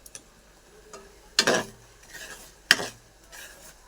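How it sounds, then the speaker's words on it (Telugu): A spoon scrapes through thick kalakand sweet mixture with ghee in a pan, making a few sharp, close scraping strokes spaced apart over a faint background sizzle, with no voices. "కొంచెం నెయ్యి వేసి తిప్పాలి"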